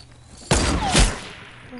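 Two loud gunshot bursts in a multiplayer shooter game, a sharp blast then a second one about half a second later, each trailing off into a short decay with quiet background after.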